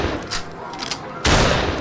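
A single loud gunshot cracks out from a cocked arcade rifle in the VR game Pierhead Arcade, a sharp burst at the end following quieter handling noise.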